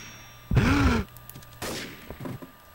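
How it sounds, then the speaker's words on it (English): Two short bursts of rapid gunfire, the first louder and sharper, the second rattling more faintly a second later. "Did you know there was a gunfire?"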